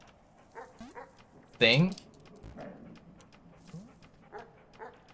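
A dog in the video game Animal Well gives a single loud, sharp bark amid quieter game sounds. Soft keyboard clicks tap throughout, and someone talks faintly underneath.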